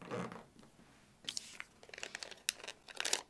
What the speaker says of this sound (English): I'm going to pull the tape so that the foil is as tight as possible